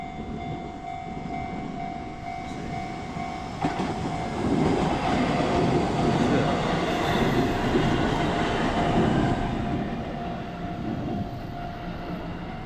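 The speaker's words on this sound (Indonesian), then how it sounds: "pas banget nih ada kereta mau lewat" A train rumbles steadily past close by at a railway crossing in Japan for several seconds, a heavy continuous roar with rattling wheels and a faint steady tone behind it.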